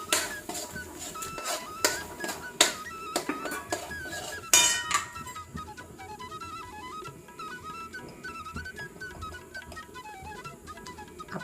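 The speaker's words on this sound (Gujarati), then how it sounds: "હવે આપણે આ મસાલાને બધા બરાબર મિક્સ કરી દઈશું" Masala for chole being mixed in a metal pan, with a run of sharp spoon clanks and scrapes against the pan followed by softer, quieter stirring.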